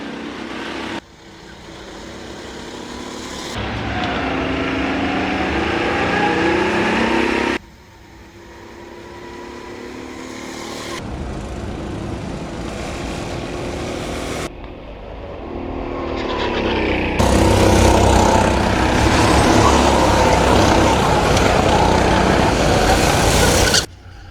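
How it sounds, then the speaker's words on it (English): Go-karts racing on a track during qualifying in a racing championship, with continuous buzzing engine drone that rises and falls as karts pass, loud and close, with brief cuts between segments. "while Faruk is getting through last corner and crosses the line"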